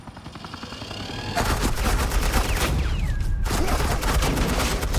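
Suppressing fire from Agent Quinn in Batman: The Enemy Within, the Telltale series: loud, sustained rapid automatic gunfire that steps up sharply partway through and continues as a dense clattering burst.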